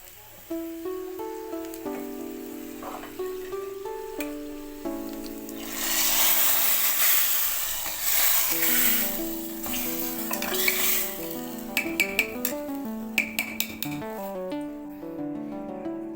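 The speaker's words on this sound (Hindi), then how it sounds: "अब इनको थोड़ा सा और अच्छे से भुनने दूंगी और मैं इसको छौंक दूंगी।" Red chillies sizzle in hot oil for a tempering meant for bathua curry, a steady hiss swelling loudly in the middle amid scattered tonal background sounds, followed by a few sharp clinks, with no talking.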